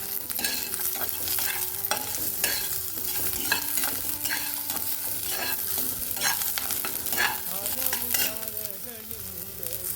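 Onions and two Byadgi chilies fry in a pan, a steady close sizzle running throughout with repeated sharp scraping stir strokes, no voices.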